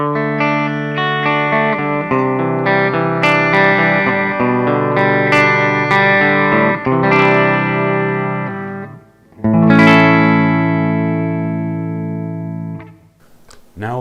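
Electric guitar on a worn PV Wolfgang, bridge pickup played through the clean channel of a Splawn Street Rod amp, ringing chords and picked notes with sustained, slightly breaking-up tone, loud and alone.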